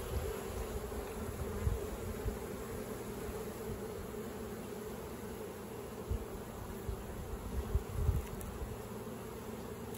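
A steady, low hum of many honeybees buzzing together inside a hive, calm and even throughout, with a few faint knocks.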